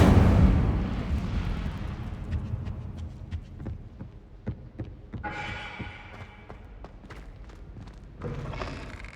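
An Incendio fire spell cast in Hogwarts Legacy, with a heavy booming whoosh at the start that fades into a crackling rumble and sharp magical bursts, loud and close.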